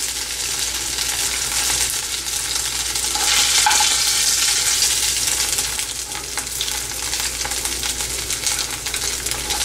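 Prawns coated in rice flour fry in hot oil, giving a steady, close, dense sizzle that swells slightly midway and carries on unbroken, with a few faint clinks and no talk.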